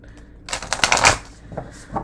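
A tarot card deck being shuffled up close: a dense burst of riffling card flutter for about three-quarters of a second, then a couple of softer taps and shuffles as the cards settle.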